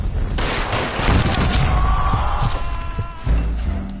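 A burst of gunfire in the video game L.A. Noire as a character shoots at a gas line, several sharp shots rattling in quick succession over a dense crashing backdrop.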